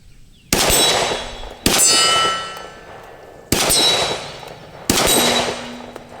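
Four sharp 10mm gunshots from a Glock 20 outdoors, each followed almost instantly by the loud ringing clang of a bullet striking a swinging steel plate target, spaced about a second or more apart.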